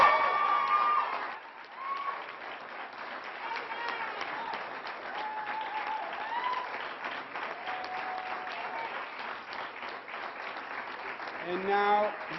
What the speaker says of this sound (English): Another round of applause for the men and women of law enforcement.